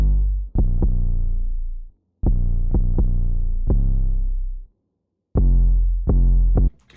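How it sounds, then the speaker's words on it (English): Deep, heavy 808 bass notes from a type beat progression, long sustained booms with sharp pitch-sliding attacks in three loud phrases separated by short gaps of silence, played alone with no talk. "So that's the full 808 progression."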